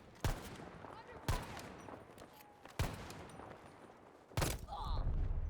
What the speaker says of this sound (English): An automatic shotgun.